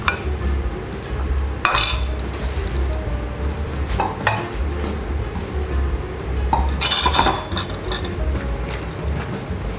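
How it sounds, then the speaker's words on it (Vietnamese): Crab and taro soup with water spinach coming to a boil in a pot, a steady bubbling simmer underneath, with occasional metallic clinks of utensils against cookware. "Rồi bắt đầu sôi lên rồi nè mấy bạn."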